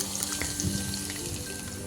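Garlic fries in hot oil over a medium flame for a Kashmiri spring onion and egg dish, a steady, close crackle and hiss with no voices.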